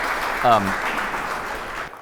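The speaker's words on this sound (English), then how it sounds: "So please give Greg a round of applause" Audience applause at a trail summit session on building trails, a steady broad wash of many hands clapping from start to finish, with a brief voice cutting in near the start before the noise drops off abruptly at the end.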